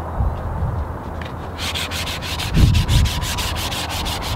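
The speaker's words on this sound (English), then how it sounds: "it's just a little bit of hand sanding to break the corners so they're not quite so sharp" Hand sanding breaks the sharp corners of a reclaimed wood bench: close, rhythmic back-and-forth rubbing strokes of sandpaper on wood, alone and steady.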